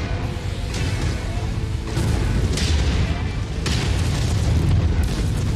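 Mech weapons firing with booming explosions in MechWarrior 5, a dense, loud continuous roar punctuated by several heavy blasts in succession.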